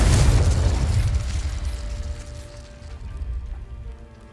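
In Hogwarts Legacy, a Confringo fire spell bursts with a loud, close explosive boom whose roaring rumble fades away over a few seconds.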